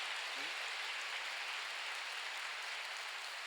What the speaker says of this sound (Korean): 왜 이렇게 박수소리가 적은가요?